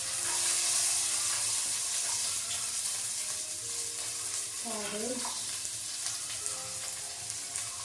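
Garlic, capsicum and carrot stir-frying in a pan for fried rice, a steady close sizzle with occasional scrapes and stirs of a spatula, and a faint voice briefly in the background.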